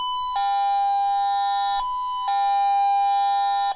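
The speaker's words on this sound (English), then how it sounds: "And each buzzer sounds different." A homemade joke truth detector machine sounds two loud, sustained electronic buzzer tones, each held for about a second and a half with a short gap between them.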